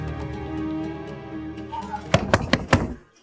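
Knocking on a house door in a crime drama scene, four sharp, loud thuds in a quick, uneven series that follow a steady low hum.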